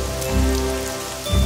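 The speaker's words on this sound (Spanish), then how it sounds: "¡La lluvia llega, llega!" Steady rainfall used as a story sound effect, a dense patter of raindrops on a surface with low rumbling swells, continuous and fairly close.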